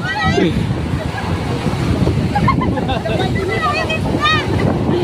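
Ocean waves surge and splash continuously against a windy background, with excited voices shouting and whooping over the water noise during anchovy fishing.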